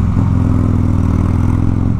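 A Harley-Davidson Street motorcycle rides through traffic with a steady, loud engine drone and low rumbling harmonics, held close and unbroken for two seconds.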